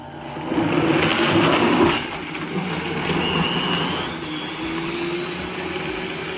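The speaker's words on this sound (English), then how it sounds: "try the blender. Ready to go." A blender's motor whirs and grinds steadily nearby, loud at first and then settling into a lower, even drone, during puppy noise-socialization with an 8-week-old Shiba Inu.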